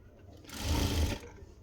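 A sewing machine runs in one continuous burst of just under a second while stitching a deep armhole seam on a garment, close and fairly quiet against a faint background hum.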